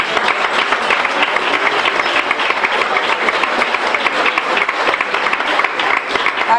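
An audience at a town festival presentation applauds in a sustained burst of dense, steady clapping that fills the room for several seconds without pause.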